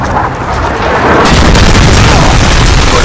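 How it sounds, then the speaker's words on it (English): A Predator missile strike in the Modern Warfare 3 video game lands with a loud, heavy boom that swells midway and rolls on as a dense, sustained rumble of blast noise. "Friendly Predator missile inbound."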